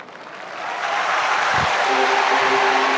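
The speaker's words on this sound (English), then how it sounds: "Very well read, deservedly applauded." Large stadium crowd of about 60,000 at the Delhi 2010 Commonwealth Games opening ceremony applauding after the athletes' oath, a broad wash of clapping that swells within the first second and holds steady and loud, with a brief low thump midway.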